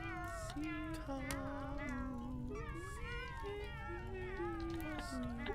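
Video game cat in Wandersong meowing repeatedly in wavering, sing-song cries over a continuous bed of game music, with a voice speaking briefly.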